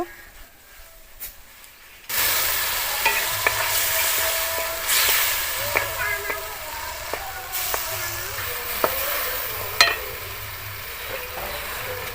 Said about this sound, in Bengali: তেলের মধ্যে আমি এবারে বেটে রাখা মশলাটা দিয়ে খুব ভালো করে কষিয়ে নেব